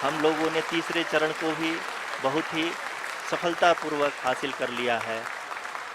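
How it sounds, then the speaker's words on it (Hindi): Steady applause fills the background of a large room during the Chandrayaan-3 lunar landing while someone speaks continuously in Hindi over it, the clapping broad and sustained throughout. "आप तालियों के गड़गड़ाहट से सुन सकते हैं"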